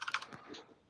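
Keys clatter on a Raspberry Pi computer keyboard in a quick burst of four or five close taps, then the sound trails off into quiet.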